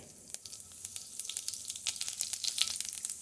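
Cumin seeds sizzle and crackle in hot mustard oil in a pan, a close, steady hiss dotted with sharp little pops that grow busier toward the end, with no talking.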